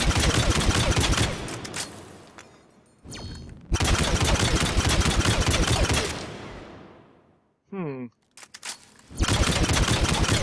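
Sniper rifle fire in the video game Mass Effect 3, Vanguard class on Insanity difficulty, with loud broadband bursts of gunfire and game effects broken by short gaps and a brief rising whine.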